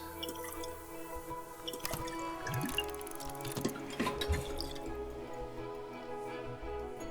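Liquid from a freshly brewed drink in Book of Hours: House of Light is poured out, a steady run of drips and trickling ticks over a layered, droning game music bed.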